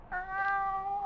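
A ship's cat in a radio drama gives a single drawn-out meow, clear and close, alone without talk.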